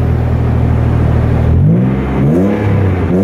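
A Nissan Z32 300ZX engine runs at a high idle, a loud steady close hum that dips and wavers slightly near the end, with no talking.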